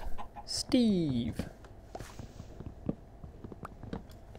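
Chickens cluck in the Minecraft video game, a short squawking call followed by scattered light clucks and footsteps, with a voice speaking briefly.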